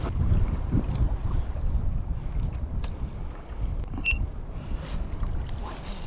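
Strong wind gusting over a lake during kayak fishing at Lac de Biscarrosse-Parentis, buffeting the microphone with loud low rumbles, with water lapping and small creaks from the kayak.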